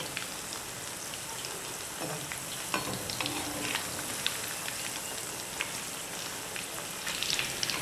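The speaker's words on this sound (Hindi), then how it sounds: "अच्छी तरह इसको मीडियम फ्लेम पर फ्राई करना है कि कच्चे ना रहे।" Pakoras deep frying in oil over a medium flame produce a dense, continuous bubbling sizzle like steady rain, with occasional faint clinks, and no voices.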